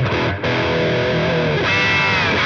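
An electric guitar played through a Neural DSP Quad Cortex rings with heavy distortion and effects, sustaining dense chords that shift after a brief dip; loud and alone.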